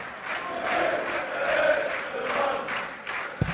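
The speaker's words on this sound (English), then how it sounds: "The crowd has started singing his name" Darts arena crowd chanting a player's name during a PDC European Darts Open quarter-final between Dave Chisnall and Simon Whitlock, a sustained rhythmic mass of voices rising and falling in waves, loud and close throughout.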